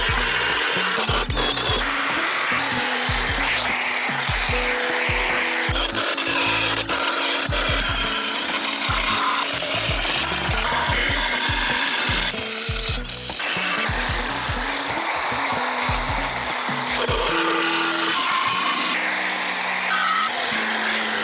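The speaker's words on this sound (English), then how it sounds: "Both sides are sanded down, super clean, super smooth." Continuous abrasive sanding on the body of a crash-damaged Toyota GR Supra being taken down to bare metal, loud close rhythmic scraping strokes with a droning low hum, running steadily without speech.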